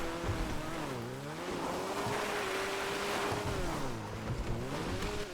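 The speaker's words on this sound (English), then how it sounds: "Maybe the engine's too loud" A boat engine drones steadily in a roleplay video game, its pitch rising and falling in slow sweeps while water rushes and splashes broadly around it, continuous and moderately loud.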